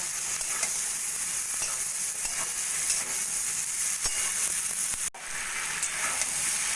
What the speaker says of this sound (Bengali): এবার দিয়ে দেবো আমি আগে থেকে কেটে রাখা ঝিঙে গুলো ভালো করে মশলার সঙ্গে মিশিয়ে নেব